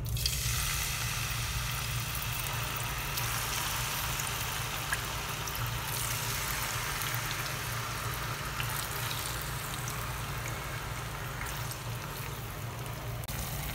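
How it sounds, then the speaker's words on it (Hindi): Marinated chicken frying uncovered in about three tablespoons of hot oil in a pan over medium flame, a steady close crackling sizzle that holds evenly throughout, with no voices. "अब चिकन को मीडियम फ्लेम पर 15 मिनट तक दोनों साइड से फ्राई कर लें।"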